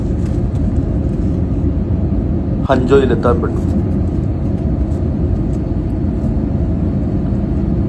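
AirAsia airliner cabin in flight, a steady low rumbling roar that runs throughout under a brief spoken phrase.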